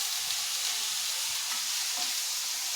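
Morel mushrooms sizzle in a pan, a dense, steady frying hiss that runs continuously and close up throughout.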